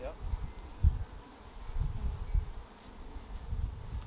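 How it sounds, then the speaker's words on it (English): Dark honeybees hum in a low, continuous drone around an overwintered hive in early spring as they bring in pollen, close and fairly even, with soft rustling and brief low bumps. "These are nice dark bees."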